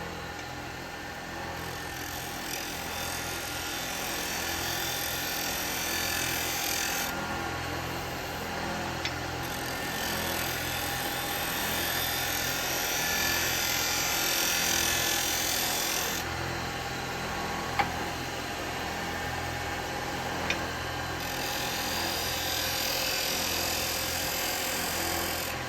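Wood lathe turning a bowl between centres on a worm screw at 2,500 RPM, a steady high-pitched whirring hum running continuously with a few faint ticks and scrapes, no talking.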